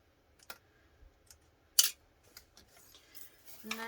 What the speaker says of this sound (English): I'm going to go to about here, backstitch, and trim my threads